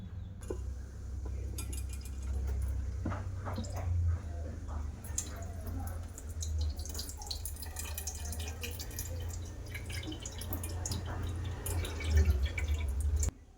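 Water, boiled and cleaned for homemade vinegar, is poured into a bottle, a steady trickling gurgle with intermittent drips and faint glass clinks, ending abruptly.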